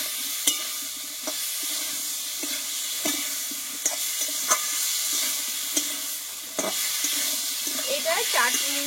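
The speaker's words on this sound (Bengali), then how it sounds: "এটা মশলার সঙ্গে ভালোভাবে কষিয়ে নেব বন্ধুরা" Chana dal cooking with spices in a pan gives a steady hiss and sizzle, with periodic spatula scrapes and taps across the bottom, close by.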